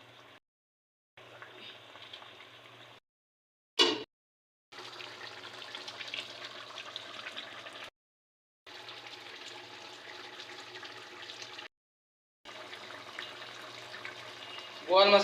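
Fried boal fish slides into a pot of boiling gravy, giving a steady broadband bubbling sizzle in several stretches broken by short silent cuts, with a sharp clatter near the middle.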